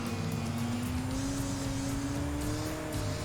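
A 2002 Saab 9-5 Aero engine drones steadily in Enthusia Professional Racing, its pitch climbing slowly as the car accelerates, with road and tire noise underneath and no talking.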